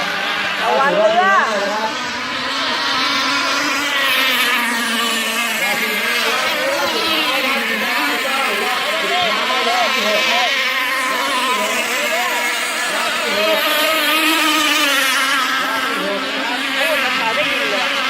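Open-class racing power boats roar and whine past on the river at Bang Len, engine pitch rising and falling as boats sweep by, with an excited commentator talking over the steady loud drone.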